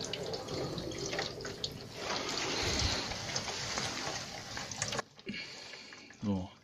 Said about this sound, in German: wir haben wie das kochende Wasser. Das muss man jetzt hier reingießen.